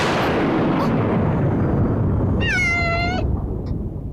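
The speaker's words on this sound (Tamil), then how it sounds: "பூனையா?" A single cat meows clearly for under a second in a Tamil TV serial scene, its sharp cry rising above a loud, constant rushing noise that fades slightly toward the end.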